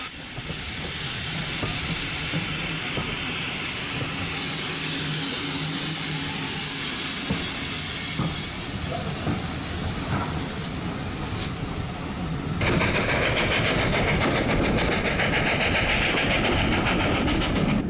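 A steam train on the Severn Valley Railway, England, rumbles steadily along the rails with hissing and clattering wheels, continuous and fairly loud throughout, the tone shifting near the end.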